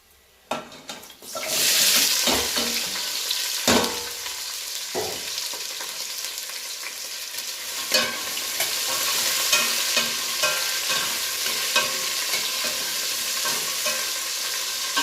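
Chopped vegetables for spinach pulao sizzle steadily in a hot pan while being stirred, with sharp scraping strokes and clatter cutting through the continuous frying hiss.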